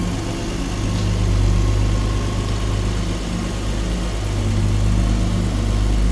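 A twin-turbo Ford Mustang engine idles at a steady, loud, low rumble throughout, with no speech over it, after a repair for blown-out spark plugs.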